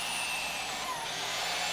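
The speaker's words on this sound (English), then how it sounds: "You can see that thing's drilling right through there, no problem." A steady, loud high-pitched whine of a Vevor magnetic drill grinding through metal, continuous and unbroken, with no voices.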